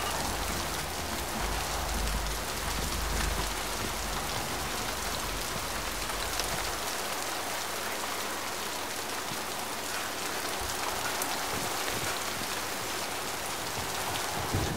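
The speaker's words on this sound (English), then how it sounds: "Just looking at the rain effects here." Rain in the Mass Effect game, a dense and even hiss of falling drops with a low rumble that fades away partway through, heard alone.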